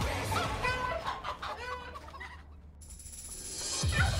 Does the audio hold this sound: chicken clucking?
yes